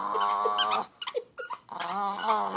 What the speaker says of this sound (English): little dog that's always yip, yip, yip